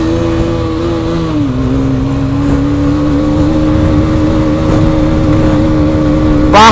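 A Hero XM motorbike engine drones steadily at speed on a mountain road, a loud, close, even hum with a slight dip in pitch early on and a brief rise near the end.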